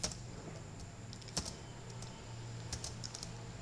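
Code is typed for a Python factorial program on a computer keyboard, a faint, close run of irregular key clicks with a few louder taps.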